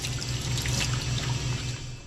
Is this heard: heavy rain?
no